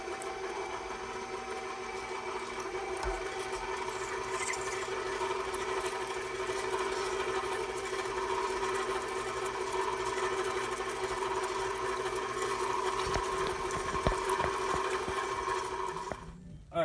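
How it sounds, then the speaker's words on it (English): Electric meat grinder grinding uncured ham pork, a steady motor hum with a constant drone running close and loud for the whole stretch, with occasional clunks, then cutting off abruptly at the end. "turn it on, and listen slowly, start grinding my pork"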